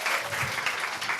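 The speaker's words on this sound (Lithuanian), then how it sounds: "Plojimai." An audience at an awards ceremony in La Capital restaurant claps steadily, a dense, even applause filling the room.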